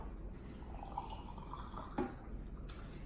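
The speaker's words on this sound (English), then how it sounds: "And then I am going to pour in some hot water that I just boiled." Freshly boiled hot water poured into a mason jar over granulated sugar, a soft continuous trickling pour with a few brief glassy clinks and drips, quiet and close.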